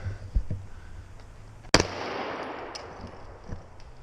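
One loud, sharp gunshot aimed at a pot on an outdoor shooting range, cracking out near the middle and trailing off in a long rolling echo, with a few faint clicks around it.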